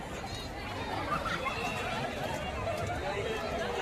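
A big crowd chatters at a temple entrance at Murdeshwara as a steady, dense babble of many voices. The close, continuous hubbub stays even throughout with no single voice standing out.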